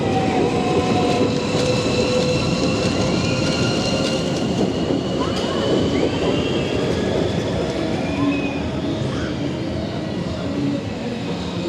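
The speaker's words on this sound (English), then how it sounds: "Kids are going on the runaway train now with mummy" A runaway train ride at Fantasy Island amusement park rumbles steadily on its track, with wheel squeal and clatter running throughout at a constant loud level and faint voices underneath.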